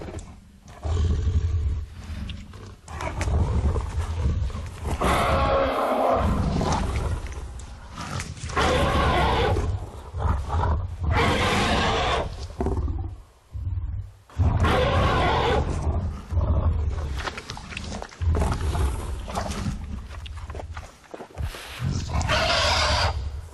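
An allosaurus dinosaur roars in the video game Durango: Wild Lands, its voice blended from pig, dog, elephant and lion sounds. A long series of loud, close, rasping roars and growls follows, separated by short pauses.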